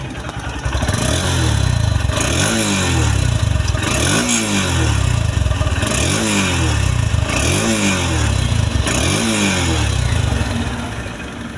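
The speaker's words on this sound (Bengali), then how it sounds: "গাড়ির সাউন্ড কোয়ালিটিটা আপনাদেরকে দেখাই দিব" Close and loud, a Honda X-Blade motorcycle engine with double disc ABS runs steadily and is revved about five times in even bursts roughly every two seconds, each rise and fall clearly heard, with no talking.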